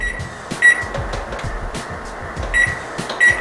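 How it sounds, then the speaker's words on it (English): Kitchen oven controls are set to preheat to 375, with several short, sharp electronic beeps over a low humming background. "we're going to preheat the oven to 375"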